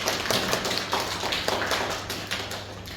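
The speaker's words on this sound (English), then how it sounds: "let us have a clap to Jennice for completing this icebreaker project" A Toastmasters club audience applauds a speaker who has just finished an icebreaker speech, a steady, moderately loud patter of many hands clapping over a low room hum.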